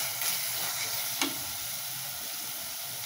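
Chopped tomatoes sauté in a pan for a Tamil chickpea curry (kondaikadalai kulambu), giving a steady, close, soft sizzle with one brief utensil tap partway through; no voices.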